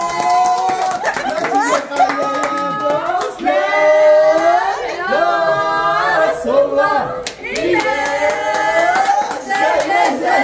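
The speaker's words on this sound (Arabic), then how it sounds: "يلا صفقوا صفقوا صفقوا" A small group of people clapping in rhythm at a family gathering at home, steady hand claps under loud excited voices and cheering that dominate throughout.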